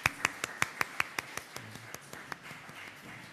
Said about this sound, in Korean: 하나님께 우리 감사와 찬양의 박수를 드렸으면 좋겠습니다